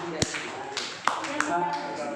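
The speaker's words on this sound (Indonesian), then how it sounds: "berikan tepuk tangan dulu dengan Bu Desi." A few scattered, sparse claps from an audience at a teachers' training session, heard under ongoing talk and background murmur.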